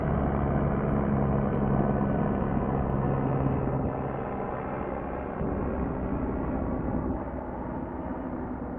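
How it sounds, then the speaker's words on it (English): Helicopter passing overhead outdoors, a steady loud broadband rotor and engine rumble that holds for several seconds then eases slightly as it moves away, with no talking. "You saw that I paused when I heard that helicopter."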